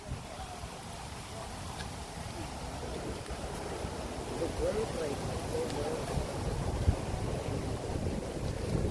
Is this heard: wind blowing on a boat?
yes